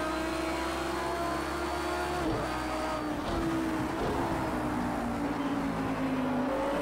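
Race car engine in Project CARS 2 held at steady high revs with tyres spinning and losing grip, a continuous droning tone with slight pitch shifts and no talking.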